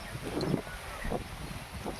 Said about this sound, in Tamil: காற்று வேறு இங்கே பயங்கரமாக அடிக்கிறதுனால சரியாக வீடியோ எடுக்க முடியல